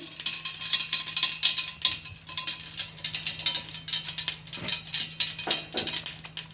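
Ghee goes into a pan over a medium gas flame at the start of making carrot halwa. A light, crackling sizzle runs throughout with irregular small scraping and rattling touches.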